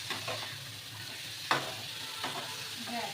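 Onion fries in a pan in a home kitchen, a quiet steady sizzle with a few soft stirring scrapes and taps, faint and close, no talking.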